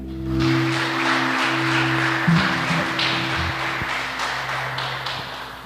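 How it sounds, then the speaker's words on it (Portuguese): Congregation clapping hands together during a church service, a steady rhythmic patter of many palms over sustained organ or keyboard chords, with no singing or talk over it. "Aplauda o Senhor."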